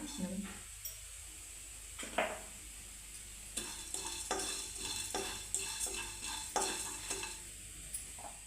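Spices and cumin fry in a pan for a spicy mutton chutney. A steady sizzle runs throughout, broken by repeated scraping and clinking as a spoon stirs against the pan.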